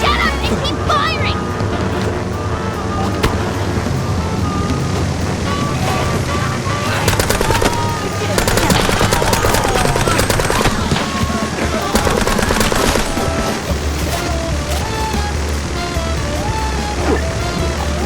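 Rapid gunfire in the video game MOUSE: P. I. For Hire, dense machine-gun bursts firing continuously and loud, layered with game music and effects throughout.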